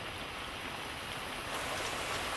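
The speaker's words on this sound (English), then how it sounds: "Still raining, and it rained all night" Steady rain falls in the Madagascar rainforest at Masoala, a dense, even hiss of drops that stays constant and close throughout, with no voices.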